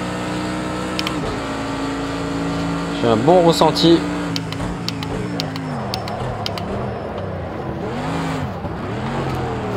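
A Mercedes AMG GT3 race car in Project Cars 2 drones at full throttle, its engine pitch rising and dipping through gear changes and corners while someone talks over it and a brief louder burst cuts in.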